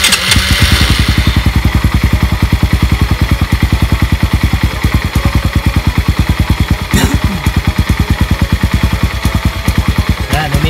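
A Suzuki Raider 150 motorcycle engine idles steadily after an oil filter change, a fast even mechanical pulse with light clatter, close and loud throughout with one brief louder blip midway.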